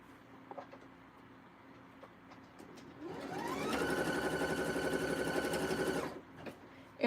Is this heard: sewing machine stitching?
yes